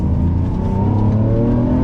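A 2022 Lamborghini Countach at full throttle, its engine roaring loud and steady as the pitch climbs under acceleration, heard from inside the cabin.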